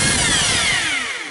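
A Makita HR2611FT rotary hammer running in drilling mode after a full overhaul, a loud, steady motor whine that begins to wind down toward the end.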